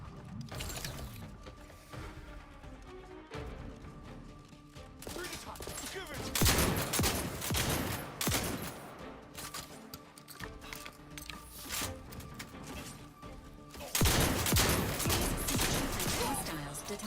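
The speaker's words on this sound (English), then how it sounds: "Shotgun time." Shotgun fire in the video game Outer Worlds 2, loud blasts standing out from a busy game mix of music and mechanical effects, with heavy bursts repeating through the clip.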